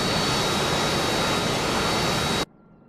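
Harrier jet in a flight simulator game, its engine producing a loud, steady broadband roar with a thin high whine on top that cuts off abruptly near the end, leaving quiet.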